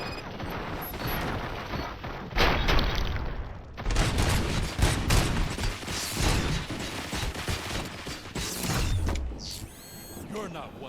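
Rapid gunfire in the game RoboCop: Rogue City, moderately loud bursts of shots mixed with mechanical clanks and creaks, running steadily for several seconds.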